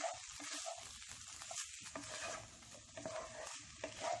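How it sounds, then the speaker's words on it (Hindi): Fried potatoes being stirred into masala in a pan for masala aloo, with soft scraping and stirring over a light sizzle. The sounds are close and steady, and no one talks. "हम इसमें फ्राई किए हुए आलू डाल देते हैं। अच्छे से मिक्स कर लें।"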